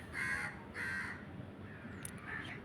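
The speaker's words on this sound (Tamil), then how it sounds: "காக்கான்னு ஒரு நண்பர் நம்மக்கிட்ட கத்தினுக்கிறாரு" Crow cawing in the horror game Granny: two clear harsh caws in quick succession, then a fainter third call with a brief high chirp, over quiet low background noise.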